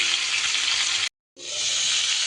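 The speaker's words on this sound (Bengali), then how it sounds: "একটু এইভাবে ঢাকা চাপা দিয়ে দিয়ে আমি পটলগুলোকে ভেজে নেব" Pointed gourd (potol) pieces fry in a covered pan, giving a loud, dense, steady sizzle that cuts off abruptly for a moment and then returns just as strong.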